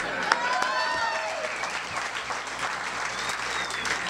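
Moderate applause from a comedy roast crowd, mostly women, follows a raunchy joke, with scattered claps and faint voices over a room hum.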